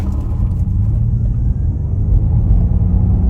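A 2025 Mustang Mach-E GT electric car accelerating hard, a loud sustained low rumble of road and motor noise with a rising whir, close up inside the cabin.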